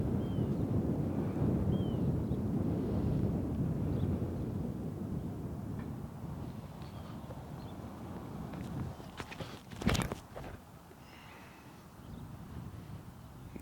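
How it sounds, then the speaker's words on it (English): Steady wind rushing across an open disc golf course, a broad continuous roar buffeting the microphone that eases slightly over time, with a brief sharp knock near the end. "The wind's picking up a little bit."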